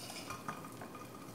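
Cooked biscuit dessert being mixed in a Pyrex glass dish, soft quiet scraping and stirring with a few light clinks of a utensil against the glass, close and low in level.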